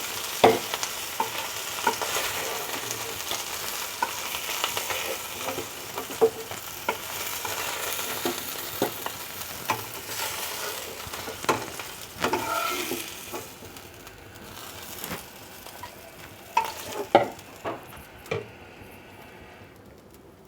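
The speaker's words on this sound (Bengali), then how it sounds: "আমি মাছগুলোকে ভেজে নিচ্ছি" Pieces of rohu fish fry in a little oil in a pan, a close, steady sizzle broken by frequent spatula clinks and scrapes and occasional pops, growing sparser and quieter toward the end, with no speech.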